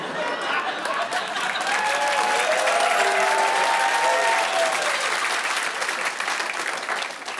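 Loud, sustained applause from a studio audience with crowd noise, swelling and then slowly tapering over several seconds, with a voice briefly audible within it.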